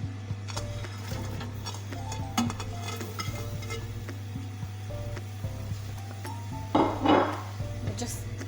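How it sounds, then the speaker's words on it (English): Vegetables tipped into a pan of warm oil for lentil soup, heard as scattered clinks and knocks of utensils against cookware, with a brief louder clatter and rustle near the end over a low steady hum. "I'm just going to add the vegetables to the pan"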